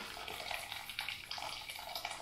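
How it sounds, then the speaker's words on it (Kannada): Water drains from a pot of boiled lentils through a cloth for holige saaru, a faint continuous pouring trickle with small surges, heard alone without talk. "ಹಿಂಗೆ ನೀರು ಅತ್ತ ಬಸ್ಕೊಳ್ರಿ"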